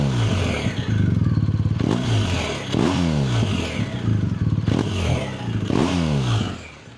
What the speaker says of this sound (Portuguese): Vamos ver aqui o ronco. Ó, vou chegar um pouco aqui na descarga para vocês verem.